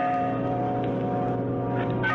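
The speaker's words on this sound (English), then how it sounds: "A bell. I think it comes from way down there in the gorge." A bell tolls from deep in a gorge in a radio drama, a sustained, ringing metallic tone with layered steady overtones heard alone.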